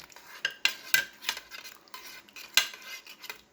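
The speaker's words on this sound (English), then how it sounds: "now what we're going to do now is we're going to mix this together" A spoon stirs flour into Hungarian goulash in a pot, making a close series of irregular scraping and clinking strokes against the metal with soft wet sloshing between them and no talk.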